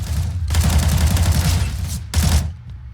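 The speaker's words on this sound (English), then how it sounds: "Ace with a frag of his own, Ace with another headshot." Rapid gunfire and headshots in a competitive shooter video game, two dense bursts of automatic fire, loud and close, separated by a brief pause.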